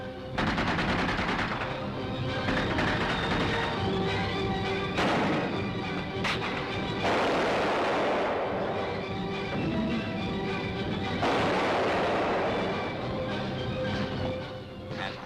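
Bursts of rifle and machine-gun fire with heavier mortar thuds during a Second World War commando training assault in Cornwall, a left flanking attack up a ridge; rapid volleys and booms repeat loudly and densely throughout, with no talk.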